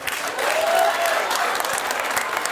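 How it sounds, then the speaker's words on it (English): Men in a comedy special audience clap, a busy, steady patter of many hands filling the room at moderate volume, some claps standing out near, with no speech over it. "Look how many men are clapping."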